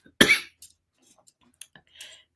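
A person gives one sharp, close cough, followed by a few faint clicks and small mouth noises in an otherwise quiet room.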